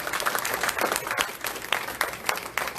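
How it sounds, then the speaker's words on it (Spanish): A church congregation applauds during a Spanish-language sermon, a lively mix of many hands with distinct sharp claps popping out irregularly over a dense, close patter. "Denle un aplauso grande al Señor."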